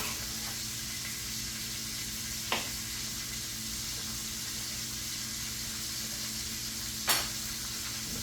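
New York strip steak sizzles steadily in butter in a pan, a constant low hiss of frying with two brief sharp clicks or pops standing out partway through and near the end.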